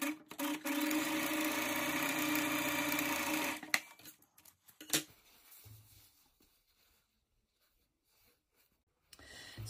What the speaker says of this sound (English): you're going to stitch together the left and right side of the face mask with a 1 centimeter